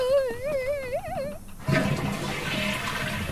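Toilet flushing indoors, a sudden rush of water starting partway through and continuing steadily, preceded by a voice humming or singing.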